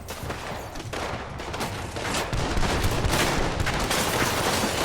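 Dense, sustained gunfire from a Red Dead Redemption 2 shootout, overlapping shots rolling into a continuous loud barrage that builds toward the end, with no talk over it.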